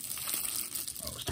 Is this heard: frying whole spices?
no